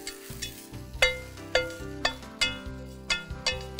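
Water snowflake greens tossed with ginger in a wok, sharp metallic spatula scrapes and clinks landing every half second or so over a soft continuous sizzle, close up.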